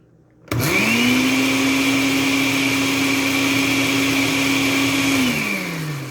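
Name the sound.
food processor blending mayonnaise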